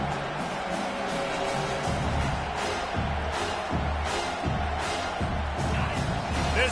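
Stadium crowd roaring steadily at an Auburn college football game, a broad, continuous wash of distant voices with some low rumbling swells, with no clear speech standing out.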